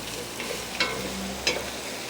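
Onions sizzle in hot coconut oil in a pot, a soft steady frying hiss with a couple of light stirring knocks, close and without talk.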